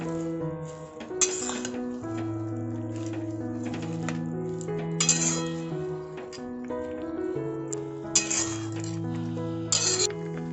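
A spoon clinks against a cooking pot while lentils are stirred together with chopped raw tomatoes, giving repeated bright metallic taps in an irregular rhythm over a steady low simmer, close and fairly loud with no talking.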